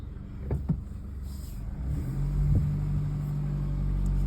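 Toyota Hilux pulling away in first gear, a low engine rumble building steadily after a few clunks, close and continuous.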